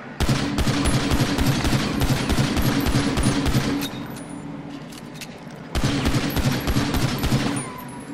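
Rapid bursts of explosive-round gunfire in a shooter video game, loud and dense for about four seconds, a short pause, then another sustained burst.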